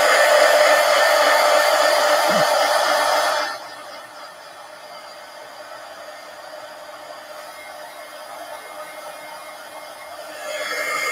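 A hair dryer blows loudly and steadily on thick paint in a mixed-media art project for about three and a half seconds, then cuts to a much quieter hum before rising again near the end.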